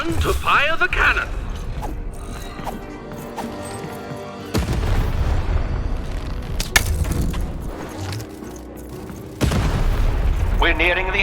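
Cannon blasts in the video game Lost in Random, with several loud booming hits and mechanical clanks over busy game music and effects, under a voice talking.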